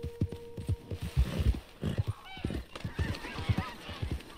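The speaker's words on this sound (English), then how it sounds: "Geese." Geese in the video game Red Dead Redemption 2 honk in a scattered, overlapping flurry of nasal calls, over rhythmic thudding like hoofbeats.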